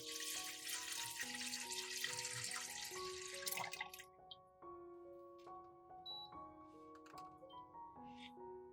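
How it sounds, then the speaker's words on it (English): Water pours steadily into a cooking pot in a home kitchen for about four seconds, a broad rushing splash with background music continuing throughout. "I pour 1 liter of water into the pot"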